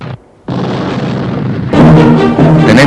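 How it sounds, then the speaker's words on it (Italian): Artillery cannon fire from a Waterloo battle documentary: a loud, sustained roar of booming blasts after a brief silence, swelling into a dense, rumbling barrage with no talk over it. "Più di 200 cannoni aprirono su di noi un fuoco spaventoso."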